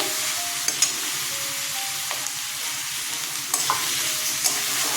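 Onions sizzling in a hot pan, fried lightly rather than browned, with a spatula stirring and scraping now and then, a steady close frying hiss throughout.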